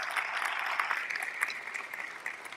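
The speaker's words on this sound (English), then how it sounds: "Let's give Battlefield a round of applause." An audience at an outstanding educators ceremony applauds Battlefield High School, with steady, fairly faint clapping from many hands heard from a distance, continuing evenly throughout with no voices over it.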